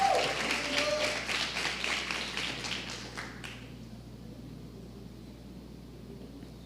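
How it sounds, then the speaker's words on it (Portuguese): Applause from a church congregation during a worship service, fairly full for about three seconds before it cuts off into near silence with low background hum. "Salva de palmas para o Tiago de novo."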